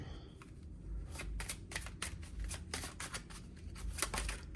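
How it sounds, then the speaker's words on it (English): Tarot cards being shuffled and drawn by hand, a rapid series of crisp riffling flutters and soft slaps repeating up close, with no talk over them. "they want me to get a couple of tarot cards"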